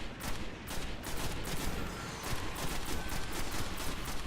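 Sustained gunfire in a Destiny campaign firefight, dense bursts of shots and impacts rattling on almost without pause, loud and close, with other battle noise layered underneath.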